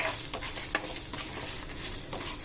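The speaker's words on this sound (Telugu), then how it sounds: "శనగపప్పు, ధనియాలు కూడా వేసుకుందాం. మళ్ళీ ఇవి కొంచెం ఫ్రై చేసుకుందాం." Dried red chillies, chana dal and coriander seeds frying in a pan, a continuous crackling sizzle with light scraping and stirring ticks throughout.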